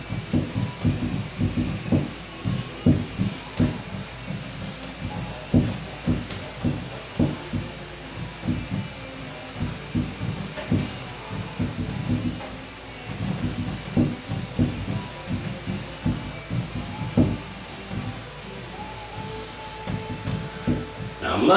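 A rag with soap rubs over the solid wood of a 1939 RCA K80 radio cabinet in repeated rhythmic scrubbing strokes, soft and close, with someone speaking now and then.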